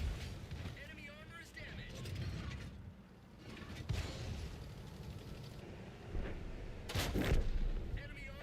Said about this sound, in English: Unleash the rockets!